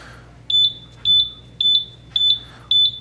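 A high electronic warning beep from a Buzzaround LX mobility scooter sounds five times at a steady pace, each one a quick double chirp, clear and close over a faint low hum.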